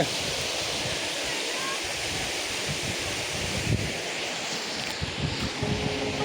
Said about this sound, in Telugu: అటు పైనుంచి నీళ్ళు ఇలా వస్తూ ఇలా వచ్చి కిందకి వెళ్తున్నాయి.